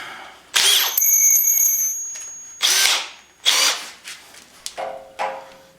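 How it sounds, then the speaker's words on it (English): A power drill runs with a freshly sharpened drill bit in several loud, close bursts of whining, grinding spin separated by brief pauses, with no talking. "I just sharpened this drill bit, so let's see what happens"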